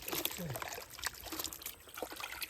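Water trickling and pouring close by at night in the Sundarbans, drained out of a spot to catch shrimp, a steady dribbling splash with small bursts over faint background noise.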